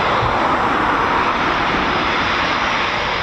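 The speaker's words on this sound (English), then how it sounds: "So we've got 1, 2, 3, 4 canopies up with I think a couple of Typhoons that are spooling already." Eurofighter Typhoon FGR4 jet engines spooling up at RAF Coningsby, a loud, steady, broadband roar that holds without a break throughout, close and with no voices over it.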